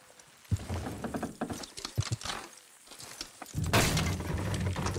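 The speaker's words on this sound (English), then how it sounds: "Horses will pull it clean down." Horses' hooves clop and thud as they strain to drag down a structure in Red Dead Redemption 2, with scattered knocks and a burst of crashing rubble near the end.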